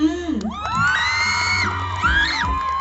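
A crowd cheers and whoops at a Thai pageant contestant introduction during the Chanuman giant festival, bright shouts and whistling cries rising and falling loudly over a PA backdrop.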